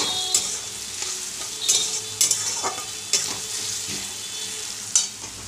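Chopped banana stem with turmeric and salt fries in a pan, a constant close sizzle broken by several sharp stirring scrapes and clinks spaced a second or so apart.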